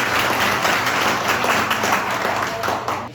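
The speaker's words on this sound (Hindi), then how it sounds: "इन सब न्यू पर्सन के लिए सर एक जोरदार तालियां हो जाए।" An audience at a closing event claps loudly for newly joined associates, sustained dense applause that tapers slightly at the end.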